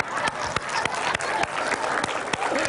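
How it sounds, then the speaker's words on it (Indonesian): Applause from a small group at a slime-making segment, steady clapping with a few sharper nearby claps standing out, continuous for nearly three seconds. "Tepuk tangan."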